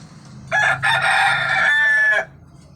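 One of seven roosters lets out a single loud, close crow lasting nearly two seconds, with no talk over it.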